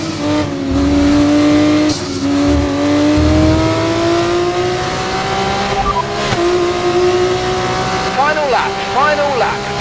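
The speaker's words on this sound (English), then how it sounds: "Final lap, push, push." F1 race car engine roaring on the final lap at Jeddah in an F1 career-mode video game, a loud, continuous high-revving whine that climbs steadily in pitch, with quick gear changes near the end.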